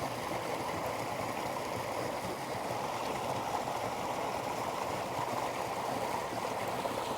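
A flowing mountain stream in the Eastern Sierra gives a steady, dense rush of water that stays even and fairly loud throughout, with no other sounds standing out.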